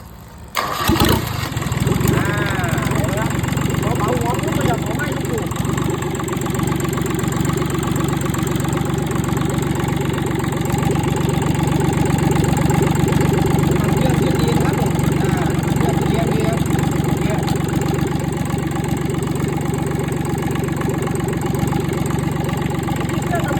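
Kubota D850 three-cylinder 18-horsepower diesel engine driving a water pump cranks and starts, then runs at a loud steady idle with a knocking chug, close, with someone talking over it.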